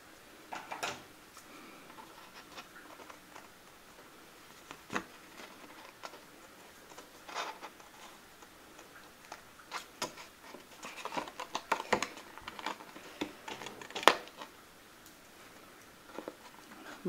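Scissors cutting along the edge of a paper craft box, faint scattered snips and small ticking clicks, irregular and quiet, clustering more densely in the latter half.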